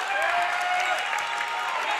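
Crowd at an OHSAA boys tournament basketball game between Tusky Valley and River View, home fans rising in steady, sustained applause and light cheering that fills the whole moment without letup.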